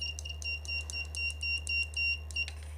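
A wireless doorbell buzzer beeps in a rapid, steady series of short high tones, fairly faint over a constant low electrical hum, with no talking.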